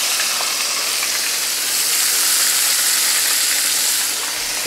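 Chicken and pork pieces frying in a pan give a steady, loud, even sizzle that hisses without a break and carries no voices.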